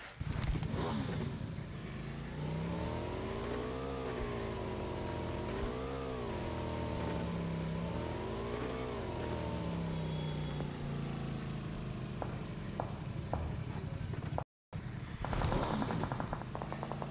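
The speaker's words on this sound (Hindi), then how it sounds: "एक बाइक मिल चुकी है, बाइक पे उसके बाद जा रहे हैं।" Motorbike ridden in the video game PUBG, its engine droning steadily and loud with rising and falling pitch swells over about seventeen seconds, briefly cut by a gap near the end.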